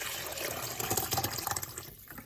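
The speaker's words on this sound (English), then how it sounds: "So I'm going to try and pour this out without spilling" Liquid broth glugs and splashes as it is poured out of a large crock pot, a short close burst of wet sloshing that tapers off.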